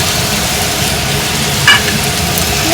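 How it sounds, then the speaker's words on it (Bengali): A fried fish head dropped into a cooked-down spice masala of cumin and coriander powder for fish-head dal, giving a steady, close sizzle and frying hiss throughout with one brief clink midway. "এবার আমি মুড়ো ভাজাটা দিয়ে দেবো"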